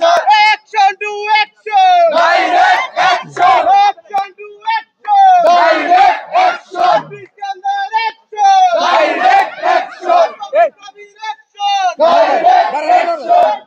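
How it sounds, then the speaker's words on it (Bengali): Students at a protest at Patuakhali Science and Technology University chanting slogans in loud rhythmic bursts, a crowd answering a lead voice in repeated call-and-response phrases with short pauses between. "ডিপ্লোমাদের বিরুদ্ধে কিন্তু বিভিন্ন ধরনের স্লোগান দেওয়া হচ্ছে আমরা দেখছি"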